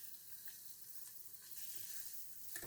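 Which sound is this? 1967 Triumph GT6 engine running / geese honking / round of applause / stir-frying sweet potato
stir-frying sweet potato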